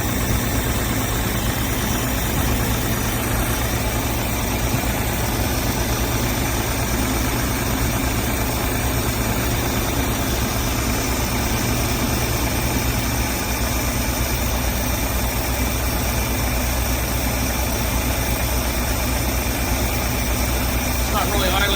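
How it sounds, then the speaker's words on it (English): A 1968 Van Winkle engine idles steadily with the choke partly closed, a constant dense mechanical drone and vibration throughout. "Let this thing idle. Slowly but surely open up that choke."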